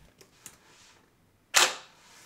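A servo arm on a homemade wrist-mounted CD launcher kicks out a single disc: a few faint ticks, a short pause, then one sharp, loud mechanical snap that decays quickly.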